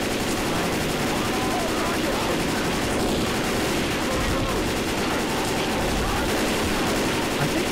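Rapid video-game gunfire from Left 4 Dead 2, a dense, continuous barrage of automatic shots layered with chaotic game noise, loud and unbroken from start to finish.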